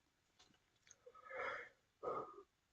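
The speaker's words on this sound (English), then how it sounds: "Apologise for yawning." A long, breathy yawn drawn out close by, trailing into a second shorter exhale, quiet and alone.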